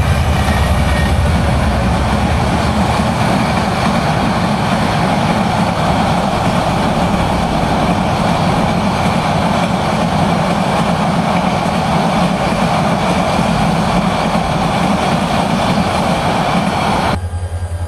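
Nasirabad Express local train on the Feni to Chattogram line running in darkness, a loud, steady, unbroken rumble of wheels and carriages close by, ending abruptly.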